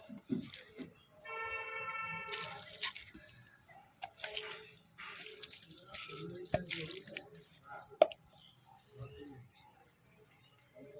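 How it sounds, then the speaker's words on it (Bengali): Clean water is poured around the base of a potted dragon fruit plant, giving a steady splashing trickle with intermittent drips while a voice talks over it. "এবার পরিষ্কার জল সুন্দর করে চারিদিক দিয়ে দিয়ে দিতে হবে"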